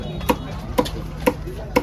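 A knife chops Kourali fish at a fish-cutting stall in Kasimadu, with four evenly spaced sharp thwacks about half a second apart, close and crisp over a low background hum.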